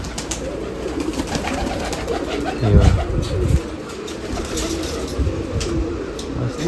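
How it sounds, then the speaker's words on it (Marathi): Pigeons at a pigeon festival in Nashik, including a large feather-footed type, cooing and fluttering at close range amid busy outdoor crowd noise, with a person speaking briefly. "परदार कबूतर म्हणतात तसे त्या टाईप मधले कबूतर आहे."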